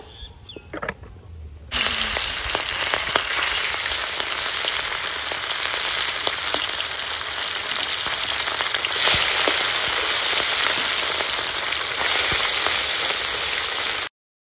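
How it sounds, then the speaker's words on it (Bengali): Bata fish frying in mustard oil in a wok, a steady loud sizzle and crackle that starts abruptly after a brief quiet lead-in and continues unbroken to the end. "এবার আমি মাছটা ভেজে নেব।"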